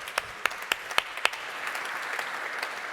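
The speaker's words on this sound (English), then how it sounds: "Bigger round of applause from the Best Buy table to Corey Barry." Applause from a dinner audience at a benefit dinner: a few sharp, separate claps ring out first, then they blend into a steady wash of clapping across the room.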